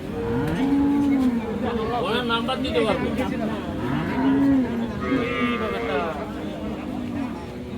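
Friesian cows moo repeatedly, loud and nearby, at a cattle market, over a constant background of people talking and crowd noise.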